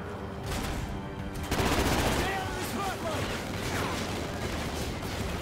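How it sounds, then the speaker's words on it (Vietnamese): Rapid automatic gunfire bursts loudly and continuously in Call of Duty: Ghosts, dense shots crackling over game ambience with a heavier burst midway. "Cái này mình nghĩ là bắn cái súng này nó sẽ cơ động anh em ạ."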